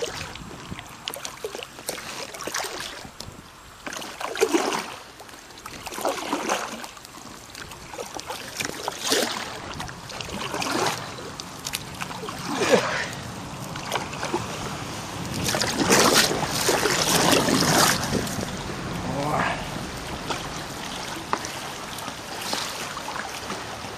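Autumn river rafting trip on the Mezha river: steady water rushing and splashing around the boat, with bursts of paddle strokes and wind buffeting, moderately loud and continuous without speech.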